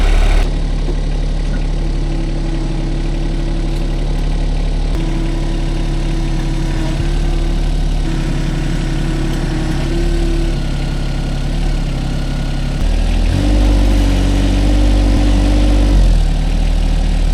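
A tractor engine idles and runs steadily up close throughout while a loader lifts a heavy load with pallet forks, holding a low, constant drone that swells in pitch and strain near the end.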